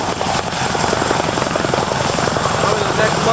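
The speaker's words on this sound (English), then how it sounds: "All 4 helicopters are up and ready to go." Military helicopters of the 101st Airborne Division take off in 1999, a loud, close, steady rotor chop with a rapid pulsing beat filling the whole stretch, engine roar underneath and voices buried in the noise.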